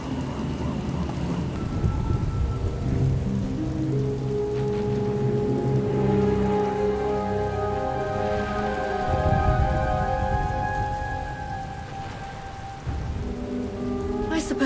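A heavy thunderstorm in the game SWTOR: steady rain drums on surfaces while rolling thunder rumbles low, with a musical score layered over the storm throughout.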